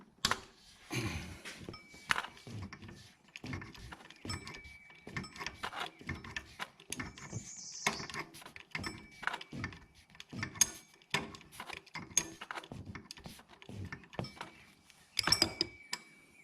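A wrench works a 14 mm bolt loose on a Nissan Altima during a water pump replacement, making sharp, irregular metallic clicks and knocks in close bursts with short pauses between them.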